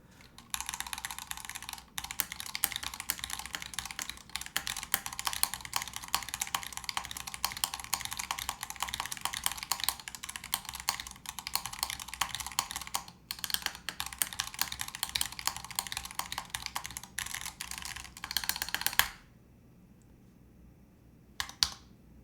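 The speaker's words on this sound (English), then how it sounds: "I'll give you guys a little typing test with this bad boy." Rapid, continuous clacking of a mechanical keyboard being typed on, close and crisp, with brief pauses before it stops near the end.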